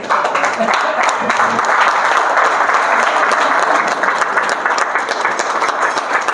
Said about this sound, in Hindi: एक बार तालियां बजा दें बच्चों के सम्मान में